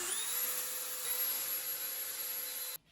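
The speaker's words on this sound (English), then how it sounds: "and then drill in your holes." A high-pitched power drill whines steadily for a few seconds, drilling dowel holes through a Milescraft JointMate doweling jig, close and fairly quiet, then cuts off abruptly.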